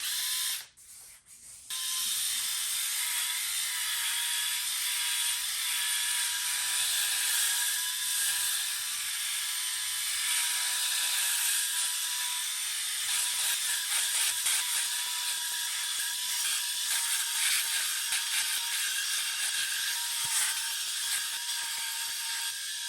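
An electric head shaver from Temu buzzes continuously against a scalp with a steady, close, high-pitched hum and slight shifts in tone as it moves, after a short burst of handling noise at the start.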